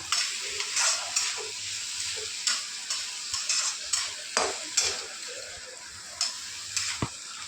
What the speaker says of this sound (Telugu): మమ్మీ సాస్ పన్నీర్ ముక్కలు వేసినాయి. ఇందులో ఫ్రై చేసుకోవాలి.